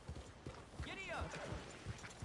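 Horse hooves clip-clopping at a gallop in Red Dead Redemption 2, rhythmic thuds under steady game ambience with a faint whinny, while a voice talks over it.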